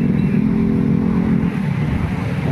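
Vehicles pass along a road on a hot, sunny day at a roadside hangout spot, producing a loud, continuous engine drone and tire rush close by, with a slight swell as one goes past and no talking.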